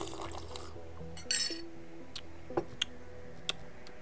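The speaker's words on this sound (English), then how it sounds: "I have a coffee here. Hear it swirl and make like clinking sounds and go." Coffee swirled in a cup, producing a few faint, sharp clinks and ticks over a quiet background hum.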